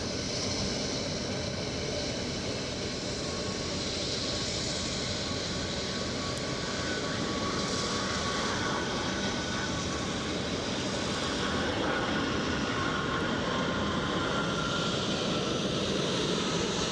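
A United airliner arriving at Edinburgh, a steady broadband jet roar heard from a distance, constant and unbroken throughout with no voices.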